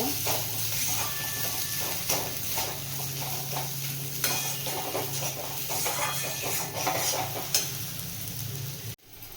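Chopped coriander being stirred into a soybean and potato mash in a pan: steady scraping stirs over a soft sizzle, repeated rhythmically and close up, with no voices.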